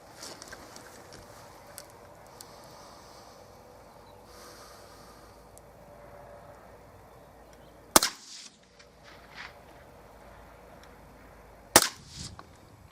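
Two sharp, suppressed .22 rifle shots fitted with a Wildcat Whisper moderator, each a short crisp crack several seconds apart over a quiet outdoor background.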